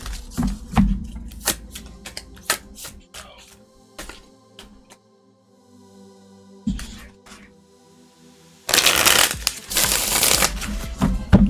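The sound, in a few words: shuffling a deck of tarot cards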